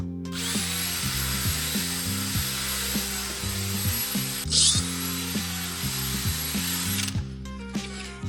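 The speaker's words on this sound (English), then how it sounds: "Then we got to agitate it with a drill brush." A handheld drill fitted with a scrubbing brush whirs loudly as it agitates a car's carpet during interior detailing, a steady high motor whine with brief stops and restarts, the rotating bristles grinding against the fibres below.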